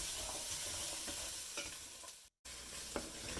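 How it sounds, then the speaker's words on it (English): Celery, carrots and onions sauteing in a pot, a continuous gentle sizzle with occasional stirring scrapes and one brief silent break. "So this has been sauteing for about 4 minutes"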